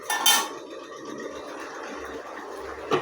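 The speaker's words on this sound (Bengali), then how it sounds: "এখন আমি কড়াইয়ের চাপাটা খুলছি" A metal lid comes off a kadai of metey chorchori, a Bengali vegetable dish, with a brief close clatter near the start, followed by a soft steady simmering hiss.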